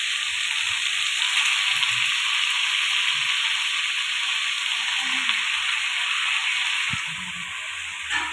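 Washed chicken hits a pan of chicken thokku gravy, and a loud, steady, close sizzle follows, hissing continuously with faint stirring underneath.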